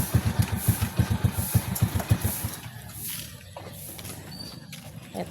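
A motorcycle engine ticks over with a low, rhythmic chugging for the first half, then drops away, leaving quieter ambient noise and faint sounds in the background.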